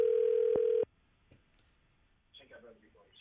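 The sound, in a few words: telephone ringing tone on a call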